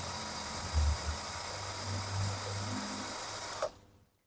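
Cheap G11B1 cordless drill spinning at speed setting 2, a faint steady whirring motor hum running for several seconds before cutting off abruptly near the end.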